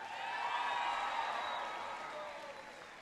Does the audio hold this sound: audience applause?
yes